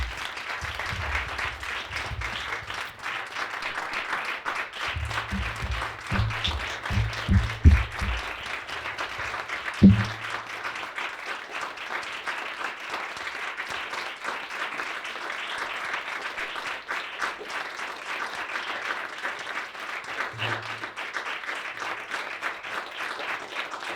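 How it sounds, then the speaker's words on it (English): An audience at a book presentation gives a long, sustained round of applause, dense and even clapping that carries on for over twenty seconds, with a few brief low thumps and murmurs underneath. "I'd like to ask you for a long applause"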